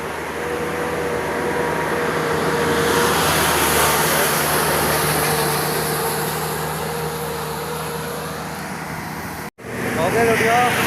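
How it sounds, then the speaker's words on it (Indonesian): A truck on a road near Madiun, Indonesia, rumbles steadily with broad road noise and a low engine drone, fairly loud and continuous, with a brief dropout near the end. "Truk iki teko Madiun lho."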